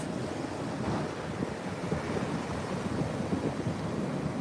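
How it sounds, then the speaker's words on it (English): Ocean surf breaks at a surf spot with small left-hand waves, a steady roar of whitewater heavily buffeted by wind noise on the microphone, continuous and loud with no voices. "these waves, this wave here would be the nice one, the little left-hander right there"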